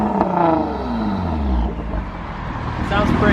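A Nissan GT-R R35 with an Armytrix valvetronic exhaust, valves open, revs in a loud, close engine roar that rises and falls through several sweeps, ending on a climbing rev as a voice talks over it.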